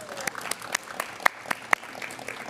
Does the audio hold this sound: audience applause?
yes